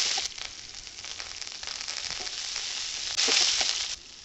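Dried red chillies, green chillies and curry leaves sautéing in a pan, a steady soft sizzle and crackle with a brief louder burst of frying near the end.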